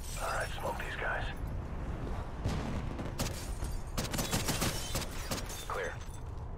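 Gunfire from the Call of Duty Ghosts campaign on Xbox One, a steady wash of shots and bursts, loud and continuous, under talking voices throughout.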